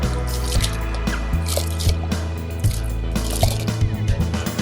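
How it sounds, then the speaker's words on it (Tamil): Rice tipped into a pot of boiling water for chicken dum biryani, giving close, wet plopping and dripping sounds in an uneven rhythm over a steady low burner hum, no talking. "தண்ணி நல்லா கொதிச்சிருச்சு. ரைஸ் போட போகிறேன்."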